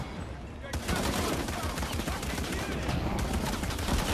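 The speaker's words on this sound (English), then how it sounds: "they got a machine gun over there" Machine gun fire in Shadow of the Tomb Raider erupts as a dense, continuous rattle, loud and sustained after a brief quieter start, with a voice talking over it.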